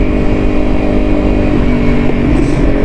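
Kawasaki Ninja 300 motorcycle engine running close by, a steady loud idle with slight revving toward the end, no talking.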